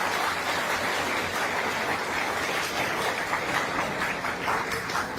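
Dense, steady applause from a student audience filling a seminar hall at an Aakash Institute event, many hands clapping at once and sustained without a break.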